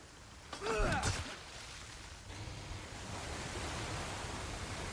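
Rain falling in the video game Resident Evil 4 Remake, a soft, steady broadband hiss throughout, with a short vocal sound near the start and no clear speech.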